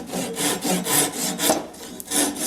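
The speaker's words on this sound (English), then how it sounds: "I'll go ahead and trim these dowels off." A saw trimming off protruding wooden dowels on an oak and marine plywood three-step stool, a steady run of back-and-forth rasping strokes, fairly close and loud, about five strokes with no talk.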